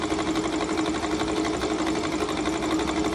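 A rotor spins steadily on a dynamic balancing machine, giving a loud, continuous mechanical hum with a fine rapid vibration and no pauses.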